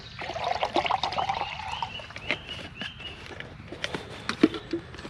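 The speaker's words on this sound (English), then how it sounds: "I'm just going to put a bit of extra water in now." Water poured to soak birch bark outdoors, a faint trickling splash at first, then soft scattered knocks and rustles, close and quiet with no talk.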